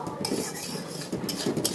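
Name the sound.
lentils frying and being stirred in mustard oil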